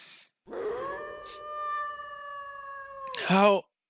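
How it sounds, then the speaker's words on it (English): A beast howls in a fantasy adventure game, a single long sustained tonal cry rising then holding steady for about three seconds before a harsher, louder snarling burst at the end, close and alone. "Howling?"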